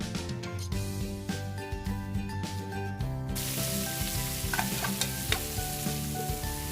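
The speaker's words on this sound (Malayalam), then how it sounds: "അത് ചൂടാകുമ്പോഴേക്കും നമുക്ക് സവാള ഇട്ടൊന്ന് വഴറ്റി കൊടുക്കാം." Sliced onions sauté in hot oil for a mutton dum biryani masala, a steady close sizzle with stirring scrapes and clinks of a utensil against the pan, the frying hiss brightening and growing louder partway through.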